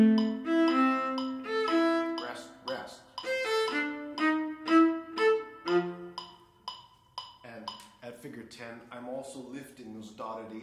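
A viola plays a lilting, steady melodic orchestral excerpt of separated notes with lifted dotted eighth notes in a lively rhythm, close and clear, with no talking.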